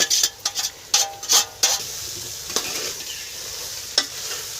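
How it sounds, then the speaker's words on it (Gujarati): Potato poha is stirred in a frying pan: bursts of scraping spoon strokes come in quick clusters over a steady sizzle, followed by scattered clinks against the pan. "હવે નાખે છે પૌવા, પછી હલાવી નાખશે"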